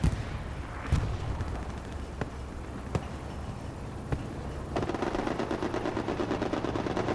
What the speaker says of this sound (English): Turret shot from the Panther.